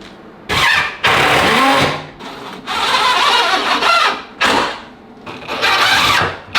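A power drill drives fasteners through L brackets into a thick kitchen countertop during cabinet installation, in repeated loud whirring bursts with short pauses between runs.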